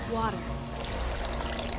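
Water poured from a container into a blender jar over peanut butter, cashews and flaxseed for a smoothie, a brief splashy trickle close by under low room noise.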